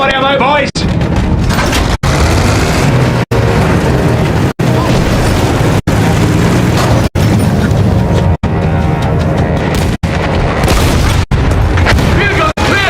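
A field gun destroyed in the video game Battlefield 1: loud, sustained explosive booms and crackling debris over a dense battle din, with voices shouting amid the noise.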